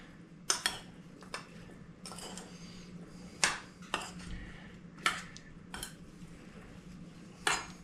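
A spoon stirs salt and pepper into a pasty filling in a bowl, making soft scraping over a low background. Sharp metallic clinks against the bowl ring out every second or so.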